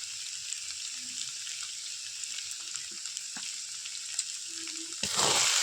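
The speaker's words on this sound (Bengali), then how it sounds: "দিয়ে ভালো করে নাড়াচাড়া করে নেব। বাটা গরম মশলা ছিল, সেই গরম মশলা বাটাটা আমি দিয়ে দেব।" Garam masala paste is stirred into a crab curry frying in a pan, giving a steady close sizzle with faint stirring scrapes, and a louder burst of frying right at the end.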